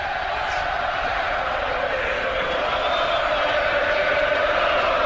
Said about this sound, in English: Listen to the crowd in the background chanting, cheering for this guy.